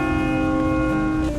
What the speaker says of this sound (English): I was interrupted by this church bell over here